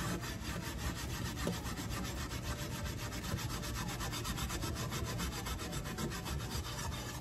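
A cast iron skillet being scrubbed with a worn scouring pad, a steady, close, continuous rasping rub with a fast back-and-forth rhythm and no pauses, heard alone without voices.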